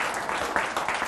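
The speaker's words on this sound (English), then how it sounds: "I got applause." Audience applause from a crowd at a talk, a steady burst of many hands clapping that fills the short moment without any voice over it.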